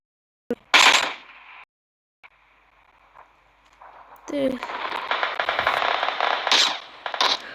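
Video game gunfire: a loud burst of shots, a quieter stretch, then sustained rapid automatic fire with crackling repeats.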